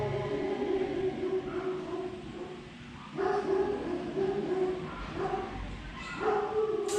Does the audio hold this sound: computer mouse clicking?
no